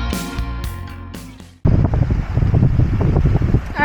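Breezy wind buffets the microphone at a waterside fishing spot, a loud steady rush that starts abruptly after a short stretch of other sound and continues without talk.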